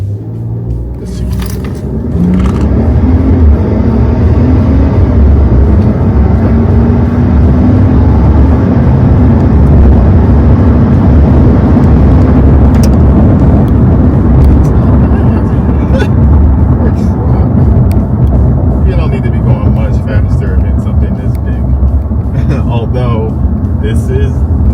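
Ram 1500 Big Horn pickup truck in four-wheel drive auto accelerating hard, a loud sustained engine rumble and road noise that builds after a brief quiet start, with someone talking over it.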